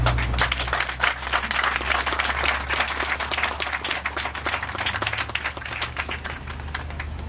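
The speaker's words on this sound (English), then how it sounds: "Let's clap again, please." Audience at a Camp Creek train wreck historical marker dedication in McDonough breaks into sustained applause, a dense steady wash of many hands clapping, fairly close, continuing for several seconds with a low hum underneath.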